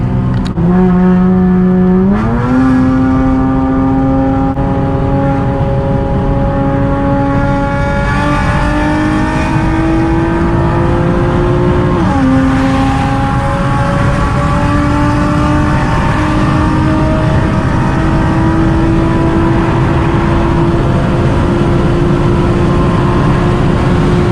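A loud straight-piped car engine revs hard through rising gears, the raspy exhaust note climbing in pitch with brief dips at each shift, close and continuous.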